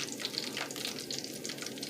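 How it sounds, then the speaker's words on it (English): Vegan stuffed potato balls frying in hot oil on a medium-high flame, a close, faint crackling sizzle with small bursts of popping spatter. "It's frying up nice. Just make sure that the oil is hot before you put in the potato."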